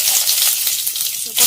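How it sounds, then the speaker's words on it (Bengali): Panch phoron and bay leaf hit hot mustard oil in a heated kadai, a loud, steady, hissing sizzle that runs the whole time and swells again at the end. "কড়াই গরম হয়ে গেছে, এর মধ্যে দিয়ে দেবো সরষের তেল, দিয়ে দিলাম 5 ফোড়ন, তেজপাতা"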